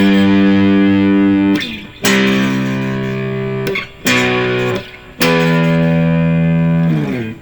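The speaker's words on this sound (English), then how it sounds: "you just put a little distortion if you have a distortion pedal." An electric guitar played through a distortion pedal rings out in four long sustained power chords, loud and saturated with short gaps between them, no voices.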